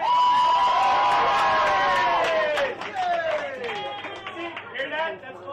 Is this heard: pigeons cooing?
no